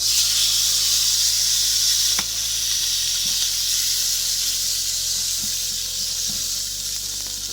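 Battered waffle pieces browning in a pan sizzle with a loud, steady bright hiss, dotted with small pops and faint utensil clicks, while a low background hum drops partway through.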